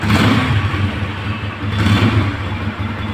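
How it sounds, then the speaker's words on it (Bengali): Second-hand 2021 Apache RTR 160 motorcycle engine running steadily with a throaty, even exhaust note, close and loud, slight revving swells, no talking. "গাড়িটি যদি স্টার্ট করে দেখা আপনাদেরকে, দর্শক সাউন্ডটি দেখতে পাচ্ছেন, একদম ক্লিয়ার সাউন্ড রয়েছে"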